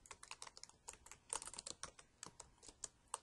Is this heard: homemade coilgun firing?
no